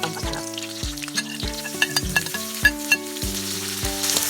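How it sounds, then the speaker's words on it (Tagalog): Garlic and then onion go into a hot pan to sauté, with a steady sizzle broken by repeated sharp knocks and stirring clatters against the pan, close and loud. "Una po natin ilalagay ay bawang. So, sunod po, ilagay natin ang sibuyas."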